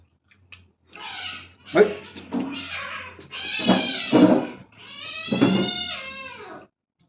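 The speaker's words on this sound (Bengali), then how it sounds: "এত বিড়ালের উৎপাত, 1 সেকেন্ড ঘর খুলে রাখা যাবে না" A cat meows repeatedly in a home kitchen, with several drawn-out, wavering calls in a loose series, near and fairly clear against a quiet background.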